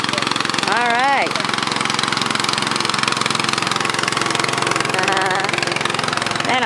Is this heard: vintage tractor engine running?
yes